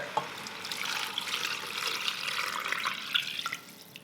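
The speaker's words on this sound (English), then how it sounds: "And then I'm going to add the rest of the water." Cold water runs steadily into a pot holding chicken for Vietnamese chicken pho broth, a continuous soft splashing and trickling stream with a few brighter drips, close and fairly quiet, without talk.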